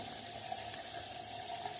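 Tap water running steadily into a sink during a shave, a continuous close hiss and splash with no talking.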